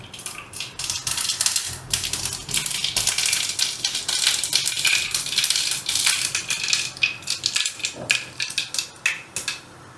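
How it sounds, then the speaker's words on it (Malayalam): Mustard seeds sputter and pop in hot coconut oil in a Kerala kitchen, a dense, continuous crackle of sharp snapping bursts, close and fairly loud with no talking. "വെളിച്ചെണ്ണ നല്ല ടേസ്റ്റ് ഉള്ളത്. ഒരു ചെറിയ സ്പൂണ് കടുക് ഇടുക."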